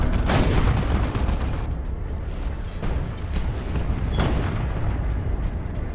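Rapid barrage of explosions from Frenzy Missile fire in the real-time strategy game Dawn of War 2: Retribution. Dense, continuous booms and crackling blasts rumble throughout, with fresh impacts surging near the start, middle and end.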